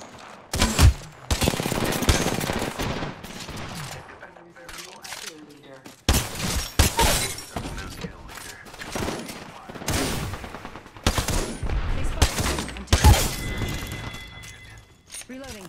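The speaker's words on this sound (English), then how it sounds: "They spotted me. I'm taking shots." Heavy gunfire in Apex Legends batters the player in dense, repeated bursts of loud shots and impacts, broken by brief pauses and mixed with game effects, while a voice talks over the fighting.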